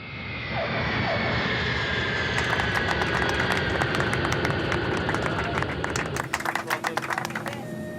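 A fixed-wing airplane's engine drones steadily in flight, loud and close, with a rising tonal whine and some clicking noises layered on top toward the end.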